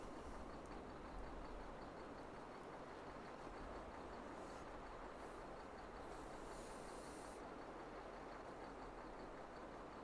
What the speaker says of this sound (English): I want to see if we can place a production next to the train and then back the train up